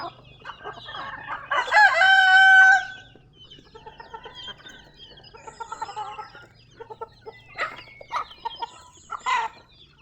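A rooster crows loudly near the start, followed by scattered clucking from several chickens, close by and uneven in rhythm.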